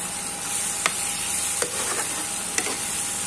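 Ridge gourd and dried shrimp curry is stirred in a pan, with a soft constant sizzle and a few sharp spoon scrapes and taps at intervals, with no talking.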